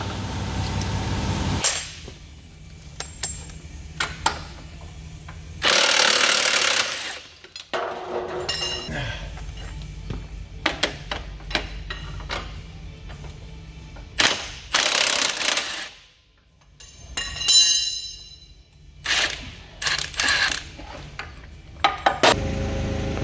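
A 50-inch breaker bar works stubborn nuts loose on an electric forklift, with loud ratcheting clicks, sharp metallic cracks and clanks spread unevenly through the stretch, close up in a workshop.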